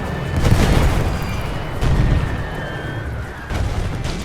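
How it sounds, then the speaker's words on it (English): Rifle gunfire and explosions in the World War I strategy game The Great War, a dense continuous rumble of distant booms and crackling shots, loud and steady with a few stronger bursts rising from the din. "They're getting shot by the rifles."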